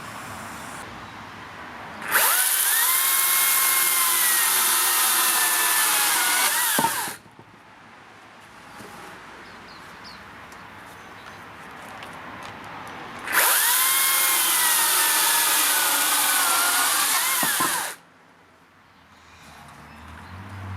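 A Makita impact wrench drives a 300 mm long, 12 mm 316 stainless coach screw, two loud sustained hammering runs of about five seconds each with a pause between, close and alone.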